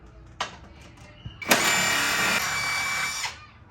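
A power tool spins out 8mm bolts holding the headlight of a Mercedes SL55: a short whir, then a longer, loud, high buzzing run of about two seconds close by, ending abruptly.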